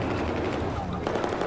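Rapid gunfire rattles in Battlefield 4 on a railway team deathmatch map, a dense, loud burst of shots heard close up while someone talks over it.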